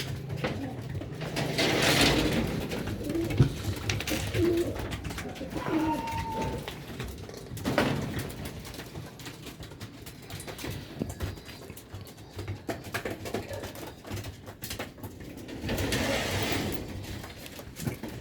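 Pigeon fledglings coo softly in a few short, low calls spread through the clip, over a faint background of rustling and occasional quiet speech nearby.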